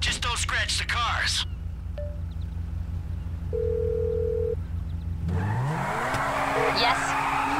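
Race cars in the GTA 5 video game squeal and skid, with a steady engine drone under brief speech at the start, a short tone mid-way, and a louder burst of engine and tire noise near the end.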